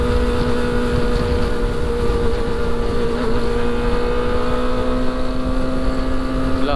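A small Yamaha Vega R motorbike engine drones steadily and loudly up close, its pitch rising slightly as it revs, with wind rush and faint voices underneath.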